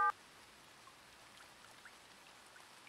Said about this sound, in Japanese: 雨降ってんですぞ。